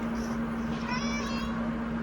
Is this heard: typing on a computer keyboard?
no